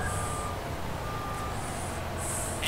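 A truck's reversing alarm sounds in slow, evenly spaced beeps over a steady low engine rumble, with a brief hiss of air brakes at the end.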